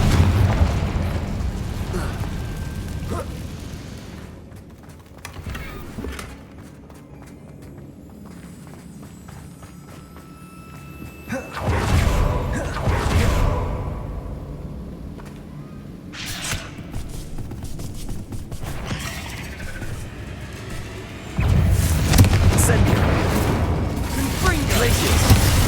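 Confringo blast spell explosions in the Hogwarts Legacy video game: loud booming bursts with a thumping low end, spaced across the stretch amid busy game noise and clopping steps.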